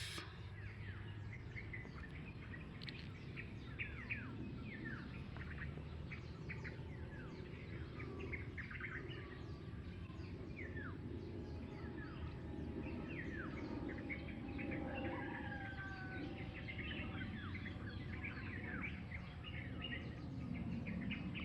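Birds chirp and call in scattered bursts over a steady outdoor hum on a mountain, with several calls overlapping throughout.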